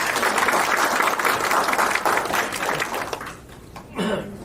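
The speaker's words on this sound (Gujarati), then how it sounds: "ફરી એકવાર લતાબેન માટે એક તાળી" Audience applause for a long-serving hospital volunteer at a medical center event, a dense, loud burst of clapping that thins and fades toward the end.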